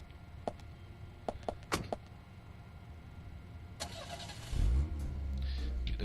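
A car engine in the video game Deadly Premonition idles and then revs up as the vehicle pulls away, with a few faint clicks early on; steady and moderately quiet, no talking.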